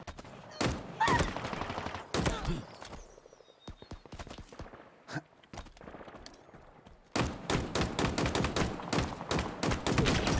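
Gunfire in the Halo Infinite video game while aliens are blown apart: bursts of sharp shots at the start, a scattered lull, then a long run of rapid, loud shots near the end.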